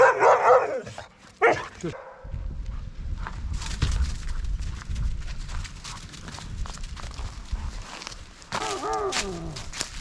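Dogs out in open Peak District hill country, with short barks near the start, then steady footsteps and outdoor rustling, and a yelp or whine late in the clip.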